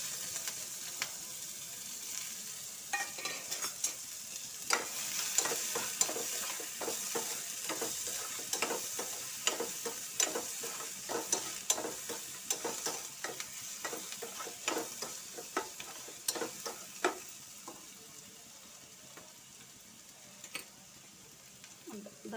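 Chopped onions sizzle in a pan with cumin and asafoetida while being stirred, a steady frying hiss broken by frequent scraping strokes of a spoon, close by and continuing for the whole stretch.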